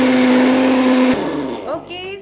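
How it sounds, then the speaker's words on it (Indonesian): A blender whirs loud and steady as it processes onion, garlic, ginger and lemongrass with a little water, then cuts off abruptly about halfway; a voice speaks afterward. "Kita akan blender lah."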